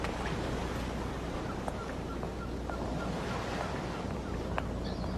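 Ocean waves washing onto the shore in the evening, a steady, close wall of surf blended with gusty wind rumble, without pauses and with no voices.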